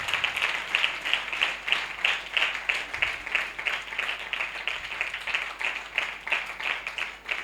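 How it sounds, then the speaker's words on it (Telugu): A church congregation gathered for a prayer meeting claps steadily for seven seconds in a close, even stream of quick rhythmic claps. "అందరం చప్పట్లు కొడదాం."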